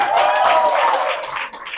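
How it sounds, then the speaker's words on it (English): An audience at a Palm Springs political rally breaks into brief applause for a former assembly member, loud and close, with a voice rising over the clapping before it thins out. "Let's give Rich a round of applause"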